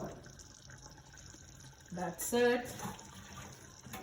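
Cooked spaghetti water drained through a colander, a brief splashing gush in the middle over quiet kitchen background, with a short spoken remark.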